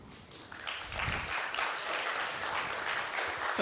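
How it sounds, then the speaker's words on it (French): Attendees at a Kubernetes tech conference in Brest clap for the organizers, and the applause builds quickly from a quiet start into a steady, moderately loud patter of many hands. "On peut applaudir l'orga."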